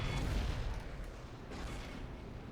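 A deep, rumbling explosion of a starship in Star Trek Legacy, a heavy low-frequency boom that swells at the start and lingers as a broad roar.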